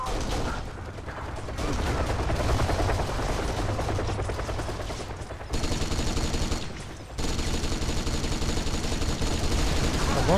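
Dense gunfire from shooters firing through walls in the video game Kane & Lynch: Dead Men, sustained bursts of loud automatic fire with brief drops, continuous for about ten seconds.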